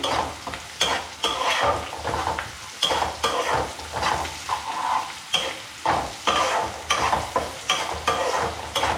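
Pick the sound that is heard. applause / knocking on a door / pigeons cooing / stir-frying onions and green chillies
stir-frying onions and green chillies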